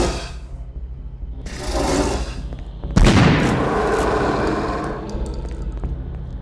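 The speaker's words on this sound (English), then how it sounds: "For the Slith growl, I layered the draining sound of a restaurant dishwasher," A layered video-game monster growl, built from the draining of a restaurant dishwasher, a lion, a crocodile hissing and crocodile exhales, comes as rough, gurgling bursts with a heavy, booming swell partway through, and no voices.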